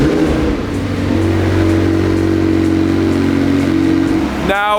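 A McLaren 720S with an aftermarket catback exhaust starts up: a steady loud engine drone with a starter whine, then a sharp rev flare near the end.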